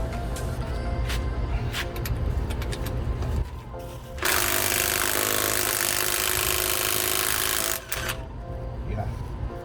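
A Bosch GDS250-LI 18-volt cordless impact wrench removes a nut, sounding as one loud, harsh, continuous hammering burst of about three and a half seconds, preceded and followed by quieter workshop noise.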